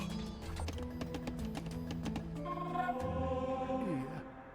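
A mobile phone buzzes and rings in repeated tonal pulses, steady and fairly loud throughout, with a short sliding tone near the end and no talking.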